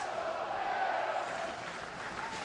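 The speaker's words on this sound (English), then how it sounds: "Now that has the crowd charged up here in downtown Hartford." Hockey crowd in downtown Hartford roaring after a power-play goal in an AHL playoff game, a sustained, dense arena cheer that holds steady and then eases slightly.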